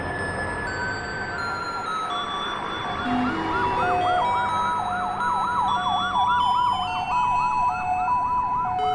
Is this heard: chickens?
no